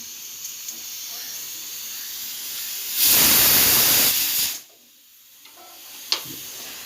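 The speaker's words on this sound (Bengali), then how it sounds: "এদিকে প্রেসারে সিটি পড়ছে মানে সেদ্ধ হয়ে গেছে" A kitchen pressure cooker whistles, letting out a loud burst of hissing steam that lasts about a second and a half before cutting off, with quieter room noise on either side.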